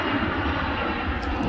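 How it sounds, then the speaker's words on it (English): An airplane flies overhead near a lagoon in a residential community, its engine making a steady, loud broadband roar that fills the whole moment without pause. "airplane over there."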